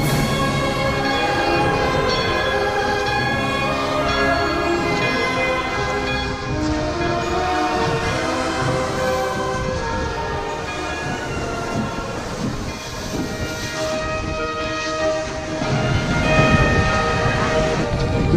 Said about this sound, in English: So once the train whistle blows, yep, now it's time to get back on.